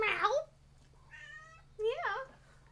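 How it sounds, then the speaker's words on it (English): Cat meows in a video game, two clear separate calls with a soft harmonic tone in between, close and moderately loud over a low steady hum. "Meow."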